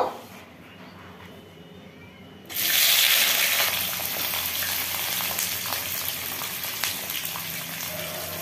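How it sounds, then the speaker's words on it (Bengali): Eggplant slices dropped into hot mustard oil in a pan, starting with a quiet lead-in and then a sudden loud burst of hissing sizzle that settles into steady, crackling frying noise. "তো আমি এখন বেগুনটাকে আগে ভেজে নেব।"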